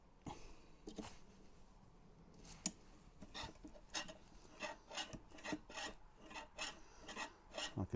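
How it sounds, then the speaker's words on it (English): Metal scrapes in the main gun mechanism of a large-scale RC Armortek Jagdpanther tank, sounding as a series of short, rasping strokes, sparse at first and then quicker and rhythmic, close and fairly quiet. "I can hear some metal scrape."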